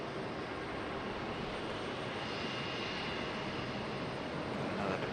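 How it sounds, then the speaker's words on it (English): An American Airlines Airbus A321 departing Raleigh-Durham International makes a faint, steady, broadband jet roar from a distance, continuous and without voices. "American A321, I'm assuming headed to Charlotte."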